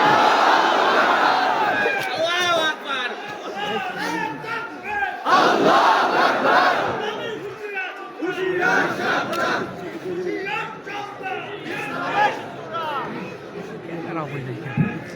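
Large crowd at an outdoor religious sermon in Faridpur roaring the takbir in unison, loud massed chanting voices rising in repeated waves with babble between the shouts.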